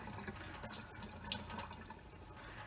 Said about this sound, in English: just draining out as much of the water as you can without spilling out the rice